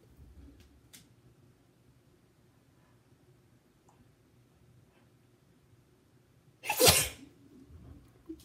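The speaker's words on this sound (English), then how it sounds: "I wish I could sneeze tiny." A single loud sneeze bursts out near the end, following several seconds of quiet room noise.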